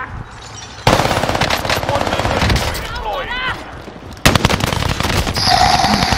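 Automatic gunfire in Call of Duty Warzone on Rebirth Island crackles in dense, loud bursts, stopping briefly mid-clip then resuming, with voices talking over parts of the firing.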